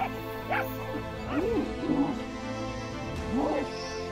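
Two dogs bark and yip in short, excited bursts while attacking a serval, fairly faint and close, with a brief whimpering cry mixed in.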